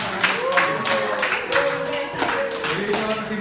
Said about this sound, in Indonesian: Tepuk tangan yang meriah buat Indonesia.